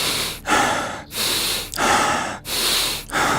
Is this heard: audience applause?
no